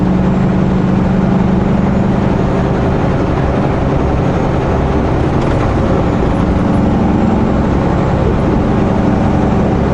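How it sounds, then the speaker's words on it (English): A Subaru car driving on a busy highway near Tacoma, WA, with a loud, steady low rumble and road roar that continues without a break and no talk over it. "it's an ugly sound that Subaru's making"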